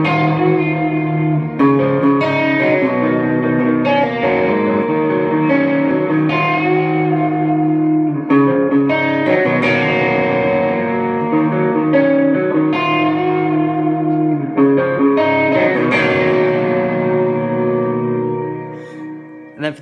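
Clean electric guitar chords ring out with a lush, shimmering wash of delay and long reverb tails, sustained and loud throughout.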